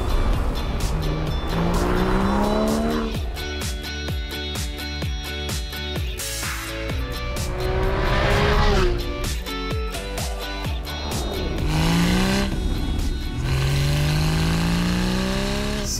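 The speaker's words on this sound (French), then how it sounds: "nous vous présentons la magnifique et surtout hyper performante GT3" Porsche 911 GT3 RS sports car driving hard, its engine loud and close as it revs through rising and falling gear changes, with tire squeal and passing whooshes over about sixteen seconds.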